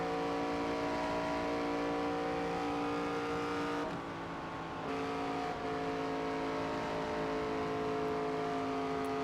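A fast track racing Ford Mustang race car in NASCAR 25 holds a steady, sustained engine drone near full throttle, with a brief dip partway through before returning to a constant high whine.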